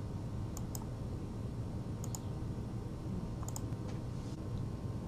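A computer mouse button clicks faintly in a quiet room, in small paired clicks repeated every second or so against a steady low background hum.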